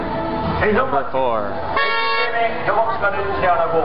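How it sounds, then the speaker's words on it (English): Car horns honk in sustained blasts amid busy election-time traffic in Sunchang, South Korea, with people talking loudly over the street noise. "Honking, that's just normal."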